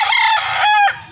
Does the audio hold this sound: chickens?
yes